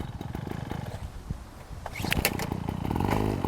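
A bicycle fitted with a built-in petrol engine runs at a rough, pulsing idle, then revs up louder and higher for a wheelie, close to the listener.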